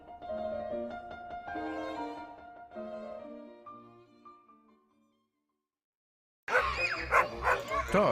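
A dog barks loudly and close in a burst at the end, preceded by unrelated tonal sound and a silent gap.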